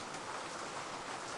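Steady rain pours in the Kiosk video game, a dense, even wash of hiss with no pauses, fairly quiet and heard alone without voices.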